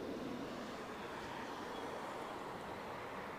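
An airplane at Barcelona El Prat airport: a faint, broad steady roar of jet noise at a distance, continuous and unchanging for the few seconds, with no talk.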